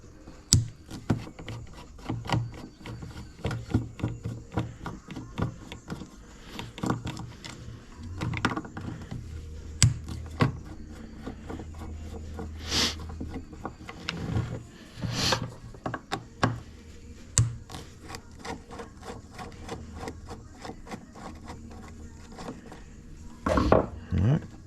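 A Phillips screwdriver loosens three screws on the fuel pump of a Kawasaki KX450F or KX250F dirt bike, giving scattered sharp metallic clicks, scrapes and light clatter of tools and parts at close range, with talk in places.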